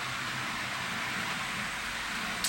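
An N gauge model measurement train running on the same controller address as another locomotive gives a steady, even mechanical hum and hiss, continuous and fairly loud throughout with no talking.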